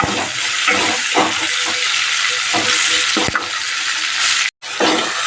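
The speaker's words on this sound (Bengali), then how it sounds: "এই তেলের মধ্যে দেখো জিরে ফোড়ন দিয়ে পেঁয়াজটা দিয়ে দিলাম" Onion frying in oil with cumin seeds gives a loud, steady broadband sizzle, close and continuous with a few stirring scrapes and a brief dropout near the end, no voices.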